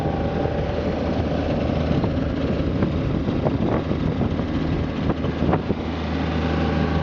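A John Deere 1445 mower with a blower attached running at full throttle, a loud steady engine roar with a continuous whooshing drone throughout, close and unbroken.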